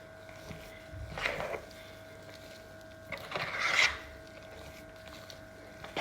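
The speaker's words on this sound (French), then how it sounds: "je vais mélanger ma pâte à choux avec les pommes de terre" Choux pastry dough being mixed into mashed potatoes for pommes dauphine, heard as two short, close scraping and rubbing strokes about two seconds apart, with no talk.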